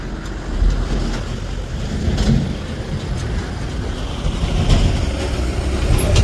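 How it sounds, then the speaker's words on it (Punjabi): Fast-flowing floodwater rushes in the swollen Ghaggar river, making a loud, continuous roar of churning water mixed with wind buffeting the microphone. "ਦੇਖ ਸਕਦੇ ਹੋ ਕਿੰਨਾ ਤੇਜ਼ ਪਾਣੀ ਆ ਕਿੰਨੀ ਸਪੀਡ ਹੋਣੀ ਆ"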